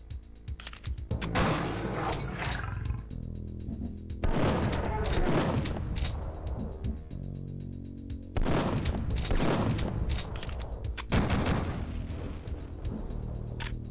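Turret gunfire in Duke Nukem 3D comes in four long, loud bursts of rapid rattling shots, separated by brief gaps.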